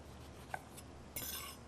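A knife cuts into an orange on a cutting board, giving one small tap and then a short, faint rasping slice close by, with no talking.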